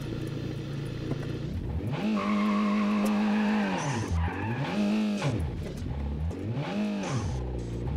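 Car sliding and skidding in the BeamNG Drive driving game, with loud, close tire squeal that rises and falls in long sweeping bursts over a revving engine, no talk.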